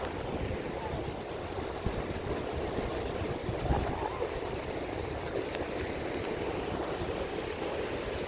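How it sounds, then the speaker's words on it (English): Ocean surf rolls in at Cannon Beach on the Oregon coast, a continuous low roar of breaking waves mixed with gusty wind buffeting the microphone, with a few slightly louder surges. "Look how close the waves are getting."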